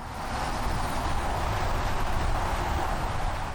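Howling wind in the game Blood, a steady broadband roar that holds at an even level throughout, with no voices over it.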